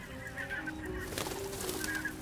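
A swan king cries out in alarm, a few loud honking calls close by, repeated in quick bursts with no talk over them.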